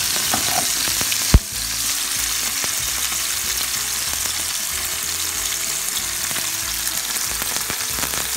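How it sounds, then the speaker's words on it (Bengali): Koi fish sizzle steadily in hot oil in a pan, a continuous crackling fry with a sharp utensil knock near the start and occasional pops, close and alone without talk. "আমি এখন একটু ভেজে নিচ্ছি ভালো করে মাছগুলো"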